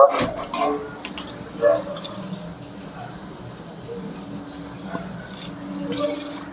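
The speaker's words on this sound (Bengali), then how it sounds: "এবার ফ্রাই করার জন্য এখানে একটা তাওয়া নিয়েছি, তাওয়াটা গরম করতে দেব।" A metal tawa griddle pan for frying chicken is set down with a sharp clatter at the start, followed by lighter kitchen clinks while a voice talks.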